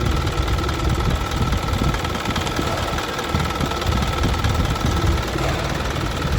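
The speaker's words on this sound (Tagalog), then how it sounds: "Maganda ang andar ng makina." An Isuzu Elf NPR truck's 4HL1 diesel engine idles with a steady, rough rumble and faint knocking, heard up close and continuous with no talking.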